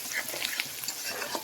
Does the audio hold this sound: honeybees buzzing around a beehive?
no